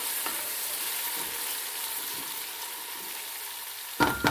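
Steady, close sizzling of ginger-garlic paste frying in a hot pan over low to medium flame, with a couple of clinks of a spoon against the pan at the end.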